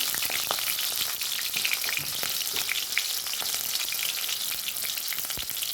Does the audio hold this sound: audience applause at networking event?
no